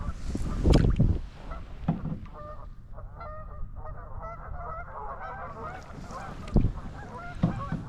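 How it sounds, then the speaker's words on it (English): Geese honk near a river while a paddler is out in a Wenonah Prism canoe, a burst of loud close calls at the start and again near the end, with fainter chattering honks in between over light water and paddling noise. "There go the geese."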